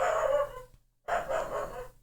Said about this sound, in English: I don't know what he's barking at, but I can hear him.